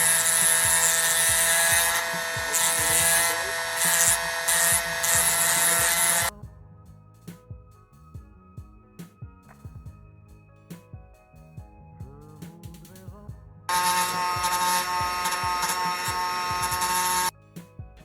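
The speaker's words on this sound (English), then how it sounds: "now I have to sand away these instruments, and for that I will use my sanding tool." Rotary sanding tool grinding away detail on 3D printed accessory parts for an Italeri Swiss Hornet model kit, a loud high-pitched whine in two long bursts with a quieter pause between them.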